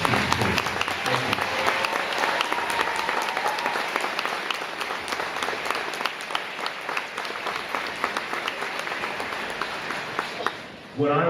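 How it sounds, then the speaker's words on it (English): An audience at a fifth grade band concert applauds the principals and teachers, dense sustained clapping that fills the room for about ten seconds, then fades and breaks off at the end. "May I have a round of applause for the principals and teachers?"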